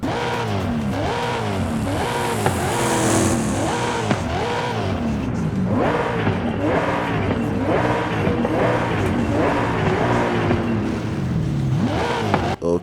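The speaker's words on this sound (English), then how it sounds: "let's see how the V8 sounds in here" A loud, roaring V8 engine swapped into a Mazda RX-7 in the video game Forza Horizon 5, revving up and down through gear changes at drag-racing speed, continuous and close throughout.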